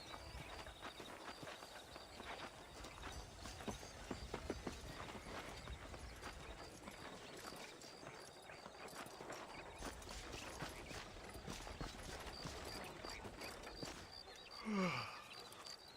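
Hooves of a horse clip-clop in the Wild West video game Red Dead Redemption, a quick steady rhythm of clear, fairly close hoofbeats, with a brief whinny near the end.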